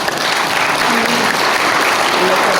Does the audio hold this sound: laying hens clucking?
no